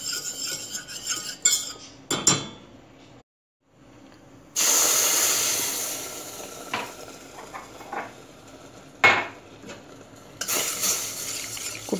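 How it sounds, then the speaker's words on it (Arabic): Kitchen clatter of utensils and pans with stretches of steady hissing sizzle of flour frying in butter, broken by brief silences and sharp metallic clicks. "هحمرهم كويس بقطعة زبدة"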